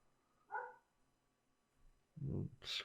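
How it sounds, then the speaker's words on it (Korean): A dog barks a few times at a distance, faint, short sharp yaps separated by pauses, with a close voice talking over part of it. "개가 막 짖네요."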